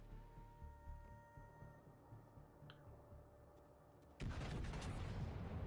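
Naval video game battle with heavy broadband cannon fire from a ship bursting in loudly after a stretch of quieter ambient game noise and faint ticking, then sustained and booming to the end.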